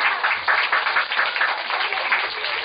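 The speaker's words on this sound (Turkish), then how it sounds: "Alkış, alkış." Audience applause at a marionette and pantomime puppet show in a theatre, a continuous crackle of many hands clapping, fairly loud and even throughout, with no voices over it.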